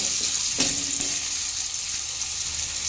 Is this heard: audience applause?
no